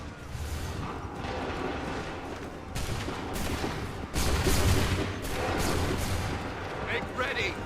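Musket volleys in Assassin's Creed 3 form dense, rumbling waves of overlapping gunfire that swell and fade. Voices call out commands under the sustained blasts.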